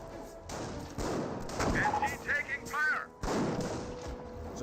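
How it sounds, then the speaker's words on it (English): Gunfire in Company of Heroes as Volksgrenadiers engage a scoped rifle squad at long range, rapid rifle shots and bursts with a dull explosion, running under a commentator's voice. "Volksgrenadiers engaging at long range onto the scope rifle squad."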